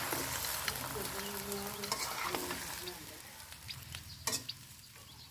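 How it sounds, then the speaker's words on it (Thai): Shredded cabbage stir-fried with pieces of fried pork belly, giving a busy close sizzle that fades gradually, with intermittent scraping and clanks from the spatula in the pan and a faint voice underneath. "ใส่หมูสามชั้นที่เราทอดไว้นะครับผม ลงไปผัดด้วยกันเลยนะครับ ผัดให้ทั่วๆนะครับ"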